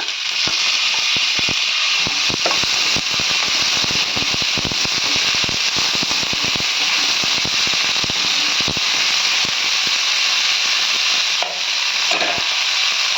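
Radish greens frying in a hot pan, a loud dense crackle and hiss that never lets up, shot through with rapid popping and spattering clicks, close up and continuous.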